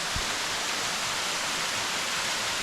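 A small jungle waterfall in Tahiti roars steadily, a dense broadband rush of falling water that stays close and unbroken throughout.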